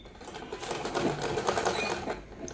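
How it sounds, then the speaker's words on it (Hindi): A sewing machine runs steadily and close up, stitching a pocket onto a frock suit with a fast, even mechanical chatter that lasts the whole moment. "यहाँ से सिलाई लगाना स्टार्ट करेंगे"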